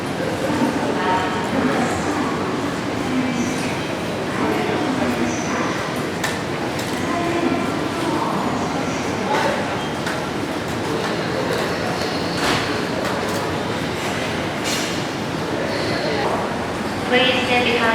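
A red Odakyu 1000 series train pulls into Shinjuku station, its steady rumble and rail noise filling the platform beneath continuous announcements and crowd chatter.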